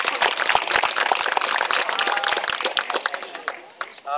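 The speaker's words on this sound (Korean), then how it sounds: "우리 촬영팀께 뜨거운 감사의 박수 부탁드립니다" A crowd at the opening ceremony of a charity golf tournament applauds the photography team with sharp, dense handclaps. The clapping thins out and fades toward the end, with some voices mixed in.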